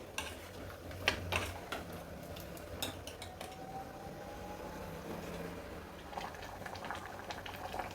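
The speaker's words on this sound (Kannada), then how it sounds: "ಮಾವಿನಕಾಯಿ ದಾಲ್ ರೆಡಿಯಾಗಿದೆ, ಕುದೀತಾ ಇದೆ." A pot of raw mango dal with lentils and onion simmers on a stove, giving a quiet, continuous bubbling with a few faint clinks of utensils.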